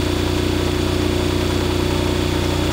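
A synchronous generator engine runs steadily at about 1805 RPM while being brought into sync with a bus, giving a loud, constant droning hum with no change in pitch or level and no voices.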